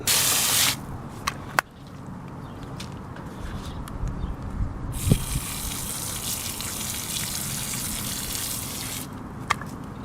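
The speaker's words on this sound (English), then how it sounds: "Give it a rinse, see what kind of roots we got." Water sprays to rinse the roots of a plant just pulled up from a sandy garden bed, a steady hiss that runs through most of the clip, with a few brief knocks and handling sounds.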